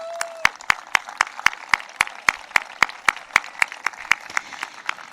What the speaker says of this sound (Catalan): Jo fins i tot faria un aplaudiment per ell.